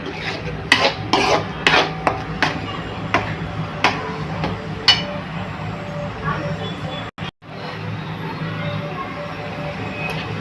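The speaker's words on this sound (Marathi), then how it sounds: "फक्त आता आपण लो फ्लेमवरती ह्याला 5 मिनिटं ठेवणार आहे आणि सतत मिक्स करायचं आहे." Spoon scraping and rubbing through a thickening pumpkin mixture in a pan over a low flame, with repeated close stirring scrapes and clinks, strongest early on, then a softer steady stir.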